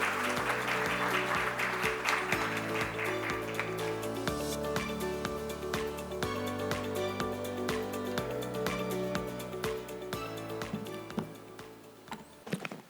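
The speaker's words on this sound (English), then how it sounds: "A slight light clap would be great." Audience clapping spreads through a conference hall while loud music with a steady beat plays throughout, the applause blending into the music.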